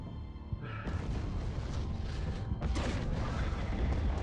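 An explosion in the video game Squadron 42, a deep booming blast that rolls into a long, loud rumble with scattered crackling debris.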